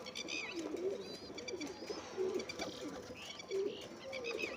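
Several soft, rolling coos from colourful pigeons in a village, repeating every second or so at moderate distance in a calm outdoor setting.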